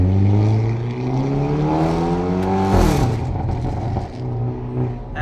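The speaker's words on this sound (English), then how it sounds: "As you can hear, the exhaust is just so insane." A Stage 2 Hyundai i30N's engine, making 320 hp, revs hard, its exhaust roaring and climbing in pitch, then a sharp shift and the growl continues at a lower pitch, loud and close.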